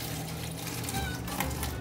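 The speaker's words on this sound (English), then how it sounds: "spray bottle, I'm gonna make it rain all over this watershed" A spray bottle mists water onto a homemade model watershed, a faint steady hiss and trickle heard up close.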